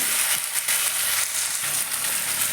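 Ground ginger, turmeric, cumin and coriander fry in a pan for a mango chutney. A steady, close, even sizzle carries through the whole stretch with no voices.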